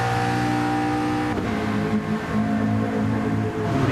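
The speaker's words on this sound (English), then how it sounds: "You can just hear the cars really struggling to put the power down." GT race cars of roughly 550–600 horsepower at the Red Bull Ring in an online racing game, engines droning and revving steadily as they fight for traction, a dense continuous roar with no talk.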